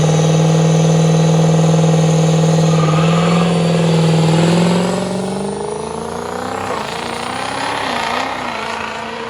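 A 1000 hp 6.0 Powerstroke diesel Ranger truck revving hard and spinning its rear slicks, a loud sustained engine roar that holds steady and then drops in pitch and fades as the truck pulls away.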